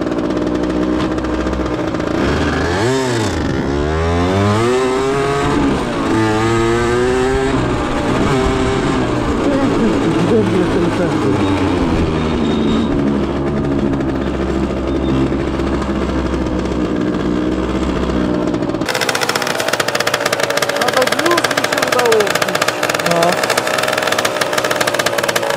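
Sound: motorcycle engine starting and running

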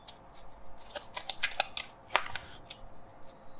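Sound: shuffling tarot cards

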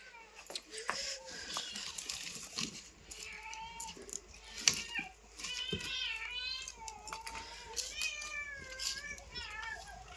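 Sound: kittens meowing

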